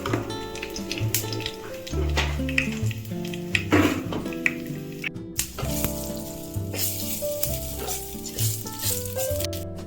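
Panch phoron spices and bay leaf sizzling in hot oil for fish-head and bottle gourd curry, a bright continuous crackle with clinks and scrapes of stirring, close and fairly loud, no talk.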